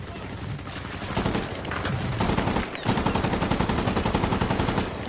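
Sustained automatic gunfire rattles in Medal of Honor: Warfighter, rapid loud bursts repeating almost without pause, with a brief gap before the shooting resumes even denser.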